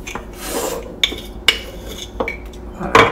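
A teaspoon stirring sugar into a cappuccino, quick clinks and scraping against the cup in an uneven rhythm, close and fairly loud, with no voices.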